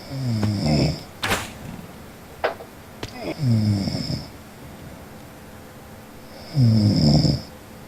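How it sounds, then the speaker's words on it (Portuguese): A person snores over a Skype call, three long, rasping breaths at regular intervals, each with a whistling tone, mixed with a few sharp clicks and knocks. "Você tá roncando."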